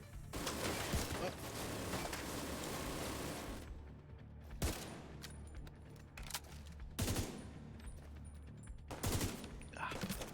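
Rapid bursts of automatic gunfire from the shooter game The Division 2 in hardcore mode, dense and loud, cutting off and returning in several short volleys.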